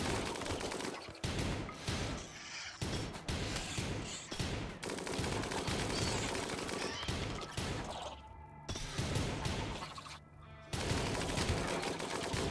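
Loud, sustained machine-gun fire in a space shooter video game, with rapid bursts of gunfire and crashing impacts running almost continuously, broken by a few short pauses.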